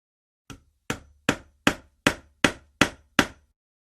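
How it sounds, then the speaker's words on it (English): A blacksmith's big hammer beats iron in eight sharp, evenly spaced strikes, each a bright metallic clang with a short ringing decay, loud and close with no voices. "The blacksmith beat the iron with his big hammer."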